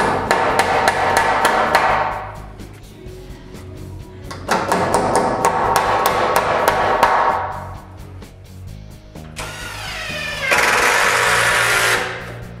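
A hammer drives nails into wooden joist hangers while joists are fitted for a wall in a woodshop under construction. It gives rapid bursts of sharp, ringing blows in three runs separated by short pauses, close and loud, with no talking.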